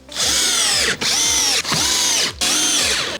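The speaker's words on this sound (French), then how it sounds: "Maintenant il ne reste plus qu'à visser." A power drill drives screws into a wall-hung kitchen cabinet, with four close, loud whirring bursts of rising pitch, each separated by a brief pause.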